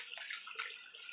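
Clear, clean stream water flowing steadily outdoors, a soft continuous rushing trickle heard close by with no talking.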